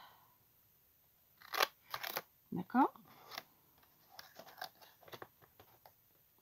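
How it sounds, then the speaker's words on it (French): Several crisp snips of pinking shears through paper, close up, in a quick cluster, followed by softer rustling, with a person speaking briefly. "Je prends une paire de ciseaux cranteurs et je viens enlever, allez, un petit centimètre."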